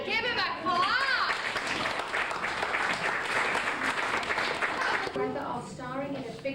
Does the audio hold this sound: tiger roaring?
no